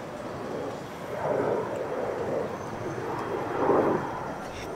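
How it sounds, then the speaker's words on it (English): An airplane passes overhead outdoors, a steady broad roar that swells and fades gently in waves, moderately loud with no talk over it. "The plane is right there."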